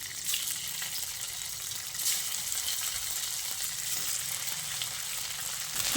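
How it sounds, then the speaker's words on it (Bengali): Jackfruit seed dhokas fry in hot oil, producing a continuous, even hiss and crackle that stays steady throughout, with a few faint utensil taps. "এই ধোকাগুলোকে একটু বেশ লাল লাল করে ভেজে নেব"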